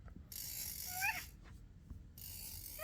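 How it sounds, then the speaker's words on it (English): Tom's head in the Talking Tom cartoon-cat app is spun, making two bursts of whirring, ratcheting spin noise with squeaky rising chirps at the end of each, separated by a near-silent gap. "You can spin his head left or you can spin his head clockwise or counterclockwise."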